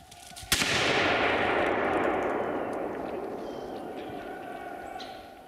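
A single rifle shot at a running wild boar during a hunt, a sudden crack followed by a long, broad rumbling wash of noise that slowly fades over several seconds.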